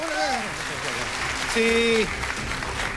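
Audience applause at a 2016 presidential debate in Cagayan de Oro City, a dense clatter of clapping that runs through the whole clip under a host's speech and a short held vocal tone.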